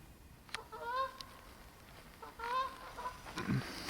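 Geese honking in the distance over snowy swampy woods, with two separate bursts of calls a second or so apart and a faint closer bird sound near the end, all alone without talk.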